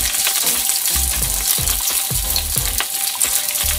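Bacon and mushrooms stir-fry over medium-low heat in a pan for a Japanese-style pasta, with a loud, steady sizzle and repeated scraping strokes of the spatula roughly every half second.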